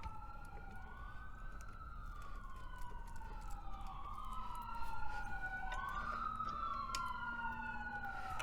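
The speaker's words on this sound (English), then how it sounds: "That's the friendly ambulance in the background." An ambulance siren passing near a fire station, wailing up and down continuously in a rising and falling sweep, heard in the background of an indoor room with no talking.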